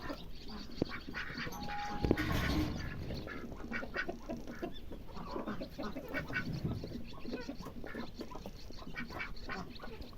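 Farm ducks quacking near at hand as they feed on grated zucchini, several loud raspy quacks over a busy background of bird chatter and rustling.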